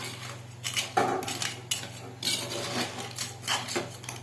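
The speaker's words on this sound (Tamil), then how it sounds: "இப்போ இதை நல்லா பெரட்டி விட்டு மூடி வச்சிடலாம்" A spoon scrapes and clatters against a pan while crab masala is stirred, several irregular close knocks and scrapes spread over about four seconds, with no voices.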